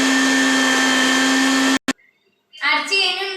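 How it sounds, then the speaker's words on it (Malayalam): A blender whirs steadily and loudly for nearly two seconds while blending juice with sugar in a jar, then cuts off abruptly; after a short pause a voice speaks. "അപ്പൊ ഞങ്ങൾ ഇനി അടിക്കാൻ പോവുകയാണ്. ഇനി അടിച്ചെടുക്കണേ."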